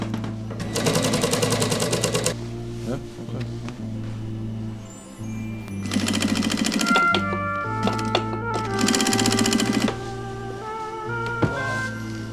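A sewing machine runs a double-needle stitch along the waistband of Japanese denim jeans in several loud, rapid bursts of whirring stitching, separated by short pauses and a few clicks and thunks, close up.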